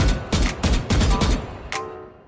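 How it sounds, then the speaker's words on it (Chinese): Bursts of automatic rifle fire from a Vandal with a special skin in the shooting game Valorant, several quick clustered shots followed by a lone final shot, punchy and close. "就是原版暴徒的枪声，再加上他的特殊音"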